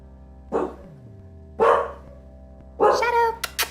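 Dogs bark three times in separate loud bursts a second or so apart, fairly close, over a quiet humming room, with a short yip at the end.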